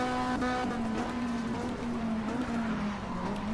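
The engine of a MINI race car in RACE 07's MINI Trophy series holds a loud, steady high-revving drone under hard acceleration, with a faint whine of other cars behind it and no talking.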